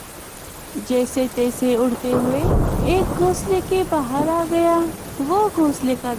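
Rain falls steadily in an animated children's story while a deep rumble of thunder swells midway, all running under a narrator's voice speaking throughout.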